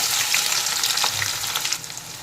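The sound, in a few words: chopped onion frying in mustard oil in a wok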